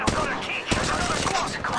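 Rapid gunfire in the mobile battle royale game Apex Legends Mobile, sharp close shots cracking out in quick bursts over a busy background of game sound.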